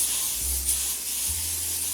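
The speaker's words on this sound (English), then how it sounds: "I'm just going to take the Pam spray" Cooking spray, a can of Pam, hisses into a pan where butter is melting for old-fashioned Southern chocolate peanut butter fudge, one steady close spray lasting about two seconds with no talk.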